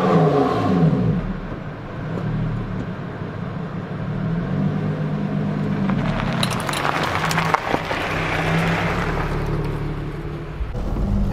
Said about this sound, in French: on va aller rouler un petit peu la voiture